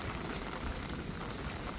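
Rain falling steadily at a house in Thailand, a soft, even patter of drops on surfaces with no voices, constant and unbroken throughout.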